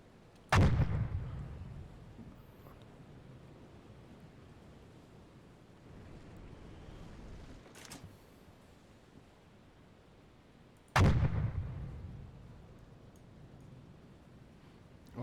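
A submarine deck gun fires in a U-Boat war game at sea, two heavy booming shots several seconds apart, each with a long rumbling decay over steady wind and ocean surf, with no talking.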